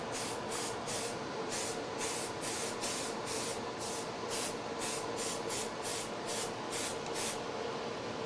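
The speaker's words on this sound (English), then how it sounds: "So I'm just going to put this to the side and just spray it." Spray adhesive hissing steadily from an aerosol can onto a craft stencil, a continuous close spray with faint pulses, no talking over it.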